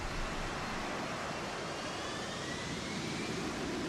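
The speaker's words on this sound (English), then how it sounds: "I guess it was a type of military plane. Some sort of jet plane." A military jet plane passes in the Deus Ex: Human Revolution video game, a steady broadband roar with a faint rising whine, fairly quiet and constant throughout with no talk.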